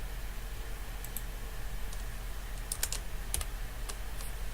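Steady typing on a computer keyboard while entering an NPV formula in Excel, with light, irregular key clicks over a constant low background hum and no speech.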